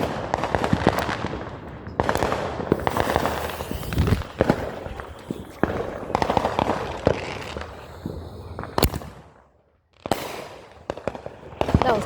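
Fireworks and firecrackers set off in a residential street on the Fourth of July, with repeated sharp bangs and crackling bursts through the whole stretch, loud and close, as people talk now and then between the blasts.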